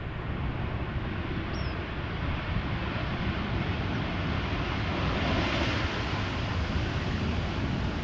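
A TUI Boeing 787 arriving at Amsterdam Schiphol comes through as a faint, distant, steady engine rumble with a soft airy hiss.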